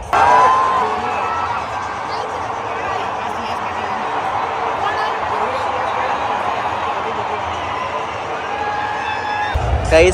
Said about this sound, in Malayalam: ഇപ്പം തന്നെ ആരവാക്കണൊക്കെ തുടങ്ങി.